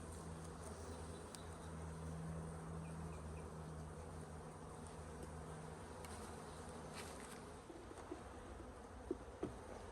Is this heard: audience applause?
no